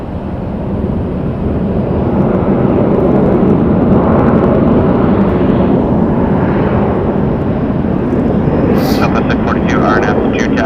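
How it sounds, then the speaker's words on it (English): A 16-year-old Southwest Airlines Boeing 737-700 jet takes off from runway 25 left at Phoenix Sky Harbor Airport, bound for St. Louis: a loud, steady engine roar lasting the whole stretch, with a brief sharper burst near the end. "next jet for departure is Southwest Airlines 642, taking the runway now, going to St. Louis, is a Boeing 737-700"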